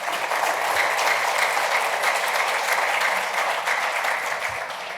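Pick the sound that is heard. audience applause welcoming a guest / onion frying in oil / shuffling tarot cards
audience applause welcoming a guest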